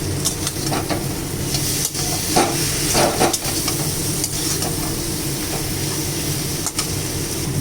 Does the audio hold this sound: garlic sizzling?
yes